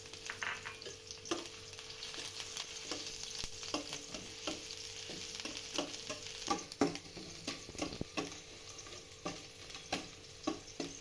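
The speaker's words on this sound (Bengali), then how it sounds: "তেল গরম হলে ১ টেবিল চামচ আদা কুচি দিয়ে দিলাম। একটু ভেজে ২ টেবিল চামচ রসুন কুচি দিলাম।" Chopped ginger and garlic fry in hot oil for a cabbage Manchurian, giving a steady close sizzle with frequent stirring clicks and scrapes throughout, no voices.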